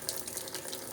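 Water runs steadily into the tub of a Smart Drive washing machine as it fills, a soft continuous hiss and splash at low volume with no talking.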